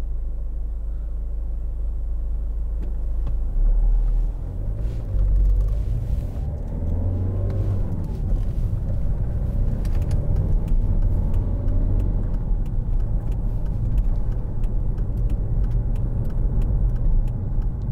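A 2011 Volvo V50 1.6 D2 R-Design diesel estate is heard from inside while driving, with a steady low road rumble and engine drone that shifts slightly in pitch.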